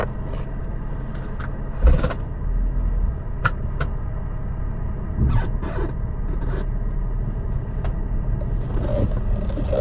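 A 2000 BMW 323i with a 2.5-litre inline six-cylinder engine driving, a steady low engine rumble heard from inside the car, with occasional small rattles and clicks over the constant drone and no talk.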